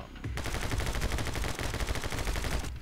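Rapid pistol gunfire in the video game My Friend Pedro, a dense, continuous volley of loud, close shots filling nearly three seconds with no pause.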